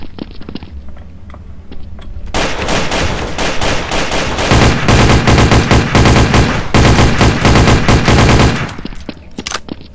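Pump shotgun and other gunfire in Counter-Strike: Source, dense loud shots clattering close for several seconds in rapid bursts, nearly continuous in the middle before tapering off, with no talking.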